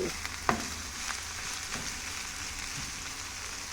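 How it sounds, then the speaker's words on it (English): Pickle vegetables for Jamaican escovitch fish fry in a pan, a soft steady sizzle with a few light clinks and stirring taps, heard alone. "we just have to fry this off for about a minute, you know, because I want to bring out some flavors"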